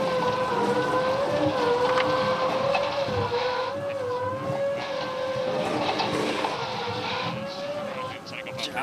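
A foiling racing yacht skims fast over water during a race between Emirates Team New Zealand and NYYC American Magic, with a rising and falling high-pitched whine and rushing spray, a voice talking underneath.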